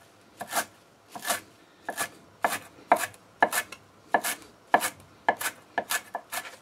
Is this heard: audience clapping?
no